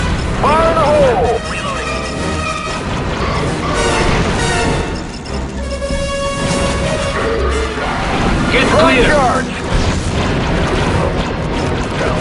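Grenade blasts in the Star Wars Republic Commando shooter, several loud booming crashes over continuous combat noise, with voices calling out amid the chaos.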